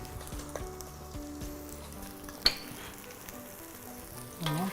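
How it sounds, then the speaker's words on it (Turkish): Meat frying in a pan with garlic gives a soft, steady sizzle at moderate volume, with one sharp clink partway through and a brief louder burst of sizzling near the end; no voices. "Etimiz de yavaş yavaş pişiyor"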